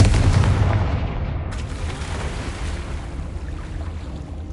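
A Confringo fire spell blasts in Hogwarts Legacy, a loud booming burst at the start that decays into a rumbling, roaring tail, with no talking.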